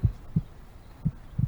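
A heartbeat picked up on a laptop gives soft, low thumps in an uneven rhythm, four beats over about a second and a half, faint and alone.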